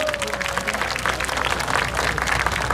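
A crowd applauding steadily throughout, dense clapping filling the space with a faint murmur of voices underneath.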